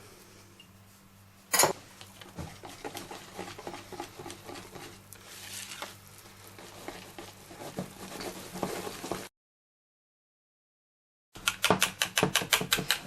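Pancake batter being stirred in a bowl, with a quick run of soft tapping and clicking as the utensil beats against the side, close and quiet, broken by a pause and then resumed.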